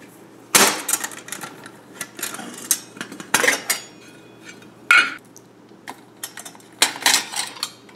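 Stainless steel MSR pot being unpacked, SilverFire Scout biomass backpacking stove parts clanking and scraping out of it in close, loud metallic clinks and rattles at irregular intervals.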